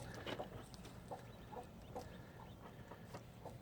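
Baby chicks peep in a steady run of short, high chirps, fairly faint and repeated every half second or so over a soft, constant background hiss.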